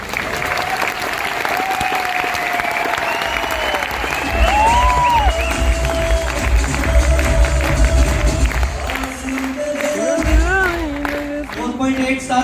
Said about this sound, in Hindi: ये तालियां उन लोगों के लिए सफिशिएंट नहीं है